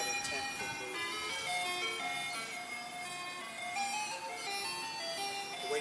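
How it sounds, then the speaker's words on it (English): Ice cream truck chime playing its jingle at a park, a steady run of bright melodic notes carrying throughout, with faint background voices beneath. "We're waiting for the ice cream truck to go by."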